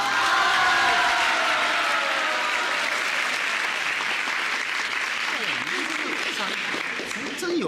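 A studio audience on a 1994 Taiwanese comedy variety show breaks into loud, sustained applause that fills the whole stretch, dense clapping with faint crowd voices mixed underneath.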